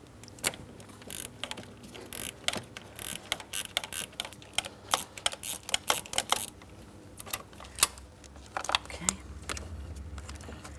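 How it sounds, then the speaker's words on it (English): A 15mm ratcheting wrench works a stud loose on the thermostat housing of a 2003-2007 Cadillac CTS 3.6L V6, producing a rapid, uneven run of close metallic ratchet clicks in short bursts. "we're using a 15mm and I'm using my ratcheting wrench"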